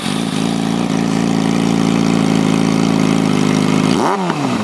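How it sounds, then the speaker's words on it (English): A Yamaha R6 sport bike with a mid-pipe, no catalytic converter and a GYTR slip-on exhaust idles loudly up close, then blips the throttle in a sharp rev that rises and falls near the end. "let's go ahead and rev up the R6"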